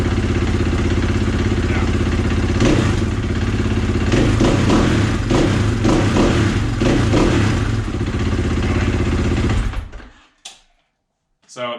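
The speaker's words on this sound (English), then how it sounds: "Super easy, starts right up, idles great." KTM 500EXC four-stroke single-cylinder dirt bike with an FMF exhaust idling steadily and loud up close, with a deep even throb that cuts out near the end, leaving near silence; a short word is spoken.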